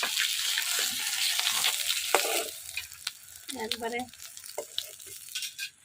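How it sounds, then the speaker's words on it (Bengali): Pieces of catla fish fry in hot oil, giving off a bright, steady sizzle and crackle with occasional stirring clatter. A person speaks briefly over the frying now and then. "এবার বাকি মাছগুলো ভেজে নেব।"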